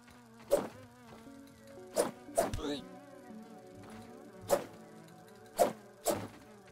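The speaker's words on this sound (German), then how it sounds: "Die Fliege? Fliege, wo bist du?" A fly in the video game Grounded buzzes steadily with a low droning hum, while sharp thwacks and clicks land several times.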